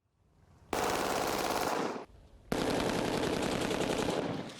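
A 9mm pistol fitted with a conversion device fires two long, loud fully automatic bursts on a training range, each a dense rapid roar of shots, separated by a brief pause.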